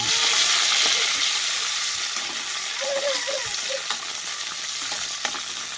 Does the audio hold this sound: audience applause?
no